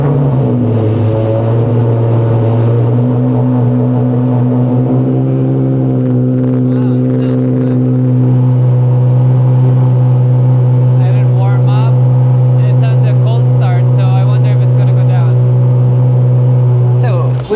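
Ferrari engine with a new exhaust setup revs up loudly and close, then settles into a sustained deep drone, with short throttle blips and a voice speaking briefly toward the end.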